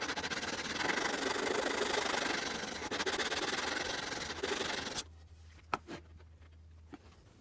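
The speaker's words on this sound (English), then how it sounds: "I think it's a good idea to round it over with a router, so that's what we're going to do." A small trim router with a round-over bit runs along the edge of a wooden skeg for a TotalBoat Sport Dory, giving a steady close rasping whine for about five seconds before cutting off, followed by a few light knocks.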